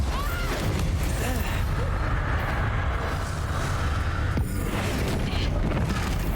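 A crackling, booming blast from the Expulso explosion spell in the Hogwarts Legacy wizarding game rolls out amid a dense, noisy fight, with one sharper burst near the end.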